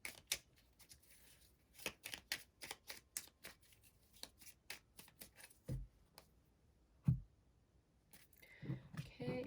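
Tarot cards being shuffled by hand, a quiet series of soft riffling flicks and taps in an uneven rhythm, close and faint with brief louder thumps.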